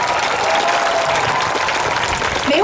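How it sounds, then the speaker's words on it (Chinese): Warm, sustained applause from an outdoor crowd at Chishang autumn harvest music festival, loud and even throughout, with a voice briefly calling out near the end. "给他们掌声，他真的很紧张"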